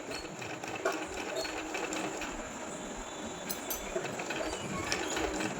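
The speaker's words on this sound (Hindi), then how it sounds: "तो अभी हम नॉर्मल यहाँ से सिलाई स्टार्ट करेंगे" A sewing machine stitches printed fabric for a designer kurti, giving a steady, close mechanical whir that runs without pause throughout, with no voices.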